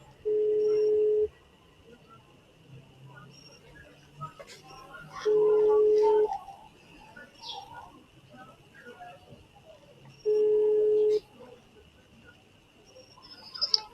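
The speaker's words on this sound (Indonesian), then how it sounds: "Gua coba telepon dulu cuy." A phone call rings out three times in long, even tones with pauses between, a steady electronic hum underneath and soft background noise, placed by a package courier waiting at a customer's house.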